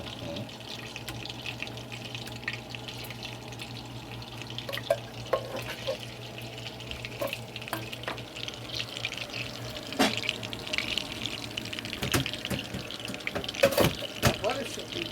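Tap water runs at a kitchen sink while a spoon is rinsed during blueberry crisp pie baking, a steady moderate splash with scattered clinks and knocks throughout.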